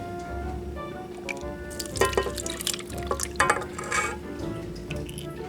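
Heavy cream for a homemade tropical cheesecake is poured into a bowl, a soft wet gurgling and splatter that swells in the middle and then settles, close by under a steady low background hum.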